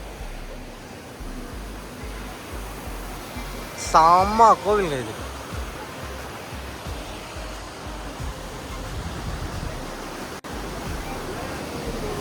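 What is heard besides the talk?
waterfall flowing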